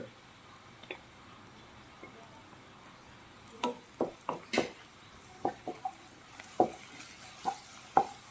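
Crushed ginger, garlic and green chilli sauté in a pan for a homemade beef fry, with a faint steady sizzle and a series of sharp spatula clicks and taps against the pan.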